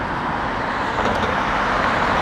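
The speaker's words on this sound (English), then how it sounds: "it's a little bit more traffic." Road traffic passes at an intersection on a wet, lightly drizzly street, a continuous broadband roar of car engines and tyre noise from nearby vehicles with no talking.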